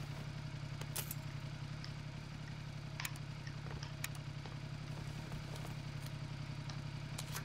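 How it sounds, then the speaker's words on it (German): A motorcycle in PUBG left running against a house wall, its engine idling in a low steady putter at quiet volume, with scattered faint clicks and clatter over the drone and no talk. "Oh, das Motorrad immer noch an."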